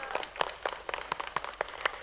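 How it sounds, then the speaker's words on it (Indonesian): Scattered audience claps at a batik flower motif design and fashion competition held by DPC IWAPI Bojonegoro, a thin patter of separate hand claps rising and falling over about two seconds. "Tepuk tangan."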